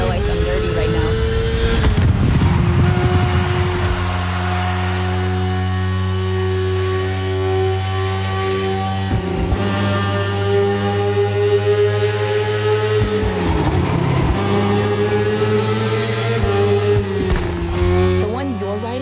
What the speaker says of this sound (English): The one you're riding is the S1000RR. Is what we call a superbike.